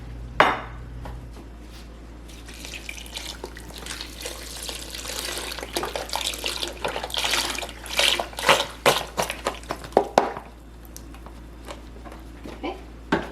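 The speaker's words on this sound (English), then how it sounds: "Then we're going to have 6 cups of vegetable broth." Vegetable broth pours into a slow cooker alongside onions, a liquid splash and gurgle with container clatter and knocks that grow busier toward the end.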